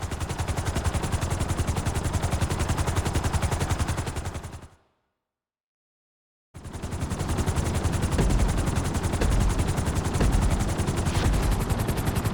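A helicopter in Grand Theft Auto V gives off a loud, steady rotor chop with a dense roar. The sound cuts to near silence for about two seconds, then resumes at full strength.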